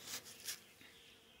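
Honeybees at an overwintered five-frame deep nucleus hive give off faint, brief buzzing swells, two short hums close together, then a softer trailing drone.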